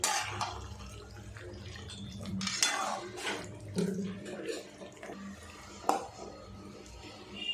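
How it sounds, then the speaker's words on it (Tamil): Chicken being mixed with masala in a pan, clinking spoon scrapes and metallic knocks against the cookware with a faint wet background, close and uneven in rhythm. "மசாலாவோட சிக்கனை நல்லா மிக்ஸ் பண்ணி விட்டுருவோம்"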